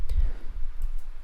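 A few keystrokes click on a computer keyboard as a message is typed, close and brief over a low background rumble.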